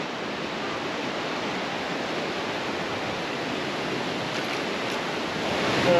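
A steady, even rush of a flowing river near Merano runs throughout, constant and moderately loud, with no voices or other distinct sounds.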